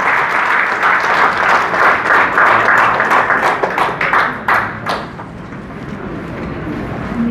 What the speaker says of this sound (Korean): 여러분 뜨거운 박수로 다시 한번 환영해 주시기 바랍니다.